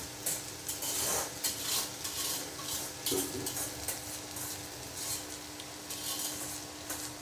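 A spoon stirs a bitter gourd poriyal with tomato, onion and sambar powder in a pan. The scraping comes in steady, close strokes over a soft sizzle, with occasional light clinks of utensil on metal.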